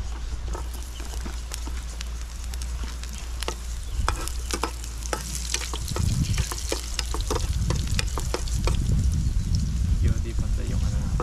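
Garlic frying in oil in a pan, with scraping utensil clicks, a stirring rattle and a sizzle that grows louder midway, while people talk over the cooking.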